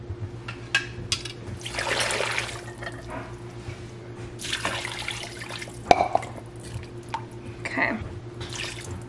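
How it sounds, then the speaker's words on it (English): Beef broth made from a beef base paste being poured into a pot roast in a home kitchen, heard as several bursts of splashing, trickling liquid with drips between pours, fairly close, with a steady low hum underneath and no talk. "So I'm gonna make some beef broth,"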